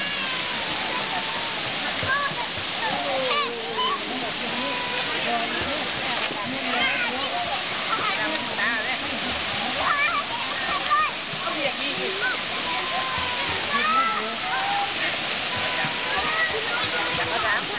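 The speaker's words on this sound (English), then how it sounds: "The high end of the waterfall." Kuang Si waterfall in Laos, upper section, roaring steadily with broad rushing and splashing water, continuous and loud at close range, with faint voices of visitors mixed underneath.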